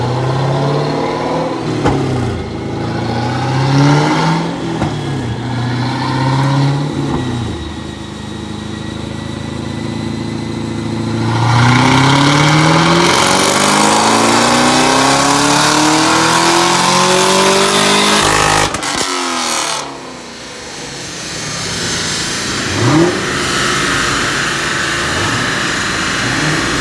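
A car engine revs hard again and again, bouncing off a raised rev limiter in loud, close, sweeping bursts with sharp cutoffs, and a brief drop to idle near the end.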